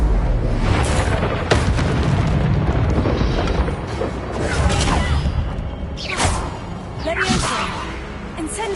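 Fiery Incendio spell bursts in Hogwarts Legacy, loud whooshing blasts and rumbling booms over a dense, continuous layer of game effects, with several sharp crackling flares.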